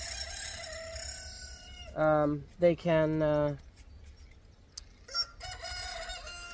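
Roosters on a homestead crow in loud, harmonic calls, one long crow broken into segments close by, followed by fainter clucks and short calls, with a few words spoken briefly.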